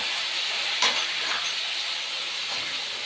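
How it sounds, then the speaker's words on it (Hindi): Beef fries in a pan with light-browned onions for a Peshawari beef pulao, a steady close sizzle and hiss with a brief stir clatter near the start. "बीफ शामिल करने के बाद हम 2 से 3 मिनट के लिए बीफ को फ्राई कर लेंगे"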